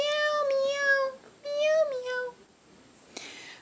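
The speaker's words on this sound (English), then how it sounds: "Cats go meow, meow, meow, meow." A cat meows clearly, two drawn-out cries followed by a short softer call, close and fairly loud in a quiet room.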